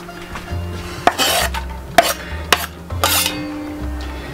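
Chunky onions and garlic sizzle in hot oil in a pan while being stirred, with a soft steady frying hiss broken by several sharp clinks and scrapes of a utensil against the pan, close up and without talking.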